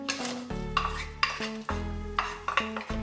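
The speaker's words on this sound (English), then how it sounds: "We're going to cook this for 6 minutes maybe, until the onion is nice and softened, okay?" Onion and chopped garlic sautéing in a pot over medium heat, soft sizzling under repeated spoon stirs and clinks against the pot, close and fairly quiet, with a tonal hum underneath and no speech.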